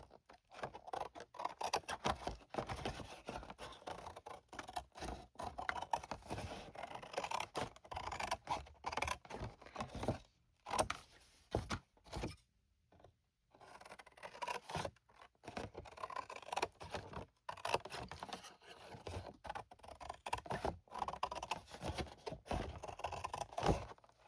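Scissors cut away fabric flaps from homemade steampunk fabric, giving repeated close snips and scraping blade sounds in irregular bursts with a few short pauses.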